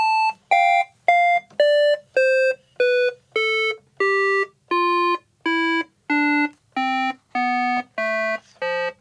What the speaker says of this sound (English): Let's do a synthesizer sound. Let's see what this one sounds like.